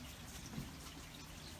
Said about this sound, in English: Are you out in the rain now, Bella?